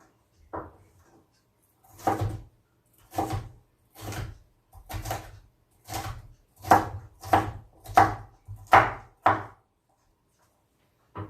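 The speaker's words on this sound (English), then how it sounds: "we'll finish cutting these up" A knife chopping vegetables on a board for Grandma Sue's home-canned spaghetti sauce: about a dozen distinct, fairly close knocks at an unhurried, uneven pace, growing a little louder and quicker toward the end, with quiet pauses between.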